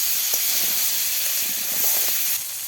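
Potatoes fry in oil in a village kitchen, a steady bright hiss of sizzling close by with a few soft stirring knocks, continuous throughout without speech.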